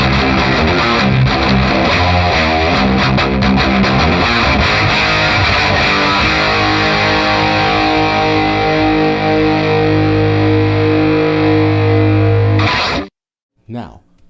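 A raunchy, heavily distorted rhythm electric guitar runs through Scattered Abroad Guitarworks pedals, loud and dense with thick chugging chords, then cuts off abruptly near the end, leaving a brief pause and a short final hit.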